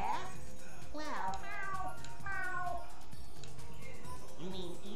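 Gary the snail meows like a cat in the SpongeBob Battle for Bikini Bottom video game, with several clear meows in a row over game audio and a character's voice.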